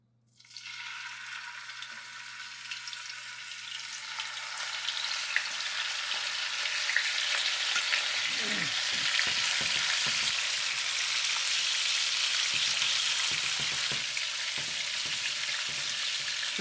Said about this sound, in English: Try to brown up the both sides.